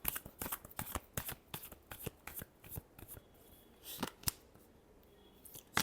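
Tarot cards being shuffled by hand, a rapid run of crisp riffling flicks and soft slaps close up and fairly quiet, with no talking.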